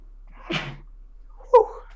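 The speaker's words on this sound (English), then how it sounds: "Hold on, I gotta sneeze real quick." A single close human sneeze bursts out in a quiet room, followed a second later by a short voiced exhale or sniff.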